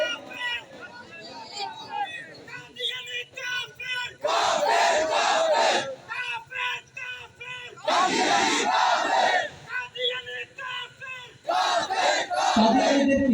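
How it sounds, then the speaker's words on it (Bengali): A large crowd chants slogans in unison at a rally, loud rhythmic call-and-response bursts of massed voices rising and falling, with a leader's voice between the chants. "সুতরাং স্লোগান তুলতে হবে স্লোগান তুলতে হবে কাফের কাফের"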